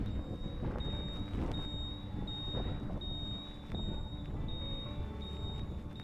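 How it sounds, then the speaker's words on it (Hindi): A thin, steady high-pitched indicator buzzer on a TVS Orbiter scooter sounds continuously under wind noise and low engine rumble while riding, fairly faint. "यार ये इंडिकेटर कभी कभी बज़र आपको इरिटेट कर सकते हैं"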